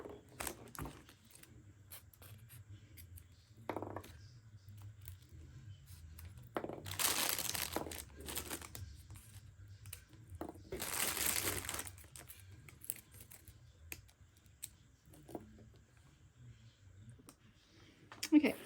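Two bursts of crisp snipping and crinkling as scissors cut plastic egg stems, close by and a few seconds each, separated by near silence with faint clicks.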